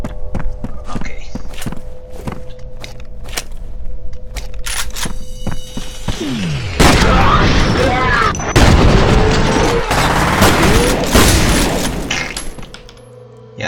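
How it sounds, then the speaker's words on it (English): Shotgun blasts and explosions in the video game FEAR: sharp repeated gunshots and footsteps, then heavy booming explosions with rumbling debris, loud and close, with a voice talking over parts of it. "they can blow up if they're too close to the shotgun"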